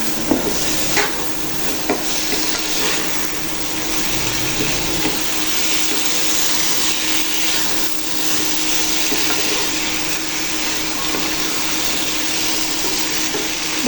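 Spices being stirred into malabar spinach in a pan, a steady close scraping and soft sizzle that runs continuously with no talk.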